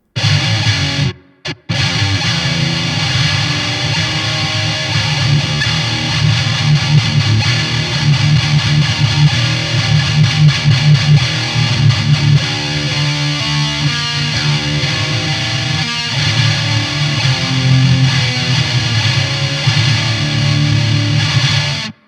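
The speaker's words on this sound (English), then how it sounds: "the Heavy pedal, a high-gain distortion stomp box from Empress Effects" An electric guitar plays through an Empress Effects Heavy high-gain distortion stomp box, giving a thick, saturated, buzzing tone that runs continuously with chugging riffs and one brief drop-out near the start.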